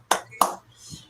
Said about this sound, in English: We got another clap.